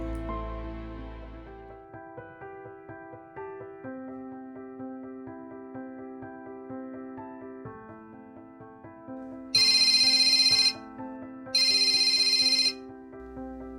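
A telephone rings in two loud electronic bursts, each about a second long with a short gap between, following calm melodic music that plays alone beforehand.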